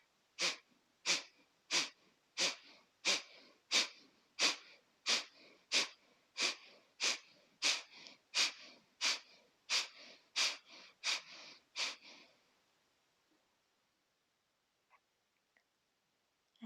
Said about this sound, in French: On va faire cette respiration Kapalabhati sur 3 séries.